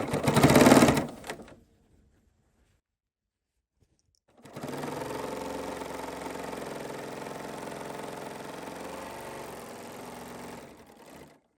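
A serger sewing a 4-thread overlock stitch, starting with a brief loud burst, then a pause of near silence, then a steady fast whirring hum running for about seven seconds before winding down, with no talking.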